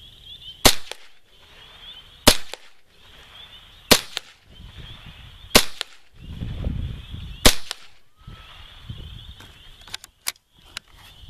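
.22 rifle firing CCI Velocitor ammunition outdoors, sharp cracking shots at roughly 1.5-second intervals, about seven in all, with a faint hum and some rustling in between.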